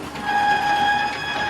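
Toy train engines running back and forth along a track, a bright steady whistle-like tone holding throughout, loud and close, with no talk.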